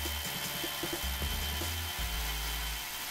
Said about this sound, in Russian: Сверлить будем тот самый бордюрный камень. 10-м буром.